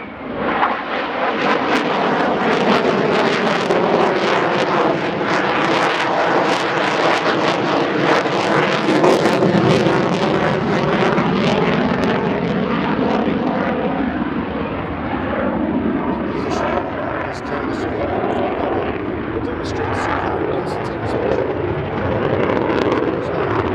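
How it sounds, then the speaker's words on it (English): A Boeing F/A-18 Super Hornet roars through a low-altitude airshow demonstration at Abbotsford, its jet engines a loud, continuous rushing thunder that swells and shifts in pitch as the fighter maneuvers, with no voices heard. "The Super Hornet will demonstrate its superb pitch rate and high of attack agility with a maximum performance low altitude recovery."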